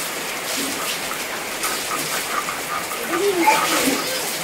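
Steady rain falling outdoors during the monsoon, a soft continuous hiss with scattered drips and splashes, moderately loud throughout with no talk over it.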